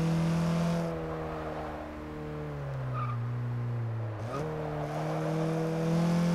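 A Porsche race car in Forza 6 at Virginia International Raceway, engine droning steadily, dipping in pitch through a corner with a brief tire squeal, then climbing again as it accelerates out.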